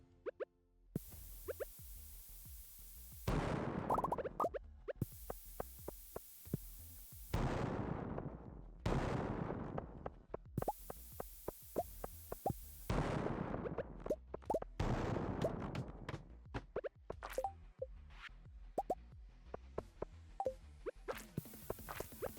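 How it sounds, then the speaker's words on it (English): Cherry bombs detonate in a video game mine, a long series of sharp pops and booming blasts, some isolated and some in rapid clusters, with no talking. "Cherry bombs, you little demons."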